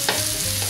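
A whole garlic head, skin on, frying in hot olive oil, a close, steady sizzle and crackle that holds evenly for under a second.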